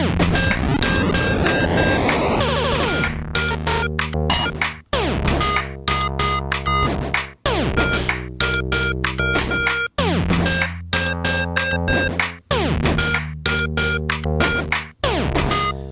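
An electronic rising synth sweep from a Teenage Engineering PO-24 Office pocket drum machine climbs in pitch for a few seconds, then gives way to a busy, repeating drum pattern with buzzy synth tones.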